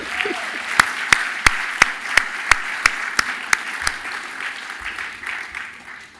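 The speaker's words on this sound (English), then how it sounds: "I think our first two honorees deserve another round of applause." An audience at a New York celebration gala gives the honorees a round of applause. A steady wash of clapping fills the room, with one set of sharp, rhythmic claps standing out close by.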